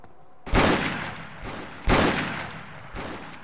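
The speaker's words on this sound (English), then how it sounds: "He's shooting at you." Gunfire in a Wild West video game: two loud, close bursts of rapid shots, each followed by a fading rumble, with a short gap of quiet before the first.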